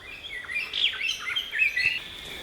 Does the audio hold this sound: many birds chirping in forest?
yes